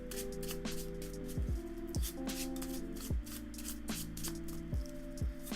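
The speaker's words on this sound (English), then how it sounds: "Alright, some quick shuffling." Magic: The Gathering cards get shuffled quickly in a rapid, repeated riffle, each pass a crisp papery burst and snap, up close over quiet background music.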